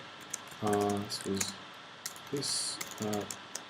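Short bursts of key clicks rattle on a computer keyboard as an assessment is typed, with a voice speaking between and over the tapping, close and moderately loud.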